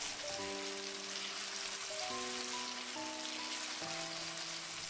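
Dumpling filling of wild greens with soybean paste being stir-fried in a wok, giving a steady sizzling hiss that runs under light background music, with no talking.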